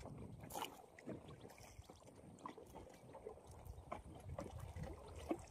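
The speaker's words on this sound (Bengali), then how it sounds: "বন্ধুরা সবাই কিন্তু নৌকা বাইছে" Fishermen row a boat through the dense mangrove forest of the Sundarbans, with faint splashes of oars and water sloshing along the hull, light wind, and distant soft sounds.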